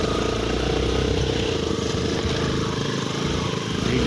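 A motorcycle engine drones steadily and loudly on a rough mountain track, a constant close rumble with slight rises and dips in pitch.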